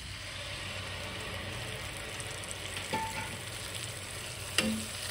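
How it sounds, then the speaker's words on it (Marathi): Tomato puree with turmeric sautéing in a pan, a steady low sizzle and bubbling up close, with a faint utensil tap or two and no talking. "इथे मी 3 टोमॅटोची प्युरी केलेली आहे, ती छान असं यात परतून घ्यायची आहे"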